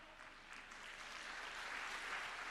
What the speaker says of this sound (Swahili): Hayo makofi yatoshi